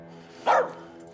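A single sharp dog bark in the As Duck Falls video game, heard once and fairly close against a quiet background hum.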